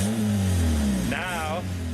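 A beat-up car with its exhaust fallen off roars loudly and revs continuously, with a voice briefly speaking over the harsh engine noise.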